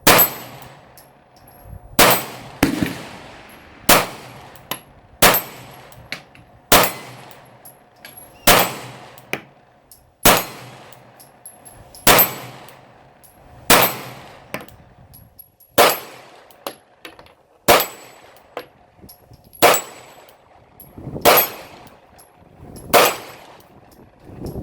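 Gunshots from a Glock G19X pistol fired at a target, about sixteen sharp loud reports at a steady unhurried pace, each followed by a short ringing echo.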